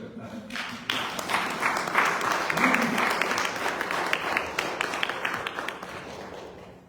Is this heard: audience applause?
yes